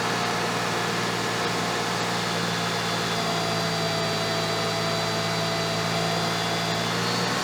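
A car engine runs at a steady 2,000 RPM during an alternator test, holding an even mechanical drone with a constant tonal whine throughout, no voices present.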